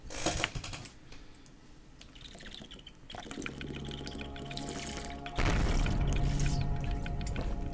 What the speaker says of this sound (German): Und jetzt fließt auch das Wasser.